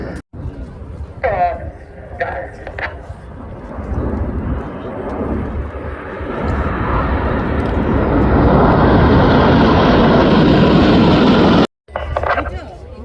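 Red Arrows jets flying a formation display at RIAT, a roaring engine noise that swells to a loud sustained rush and blends with announcer commentary, a few crackling bursts near the start and end.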